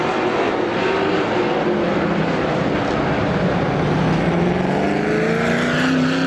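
Speedway race cars roar past at Star Speedway in an outlaw race, a continuous loud engine drone with pitch slowly rising and sliding as cars circle the track.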